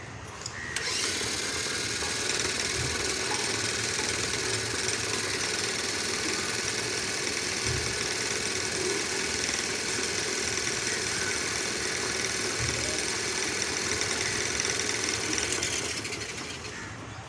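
A homemade electric firki motor reels kite string for Uttarayan, a steady, loud whirring drone holding constant for about fifteen seconds with no one speaking.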